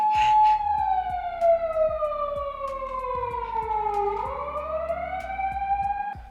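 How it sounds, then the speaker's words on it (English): An ambulance siren wails loudly, its pitch sliding down and then back up as it passes close by, with faint street noise underneath. "Right now it's an ambulance going by."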